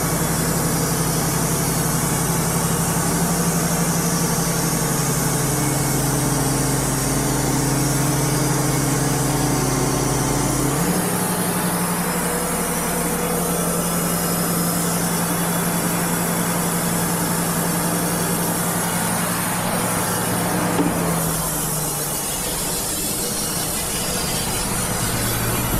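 Wood Mizer LT35 sawmill cutting an 8x8 Burr Oak beam, a continuous engine drone with a humming band-saw tone that shifts pitch partway through, steady and close throughout.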